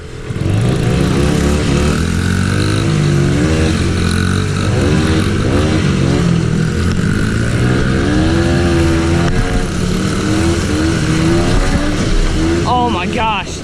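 A small pit bike engine runs steadily at close range with rising and falling revs, a continuous buzzing drone throughout, while people talk over it.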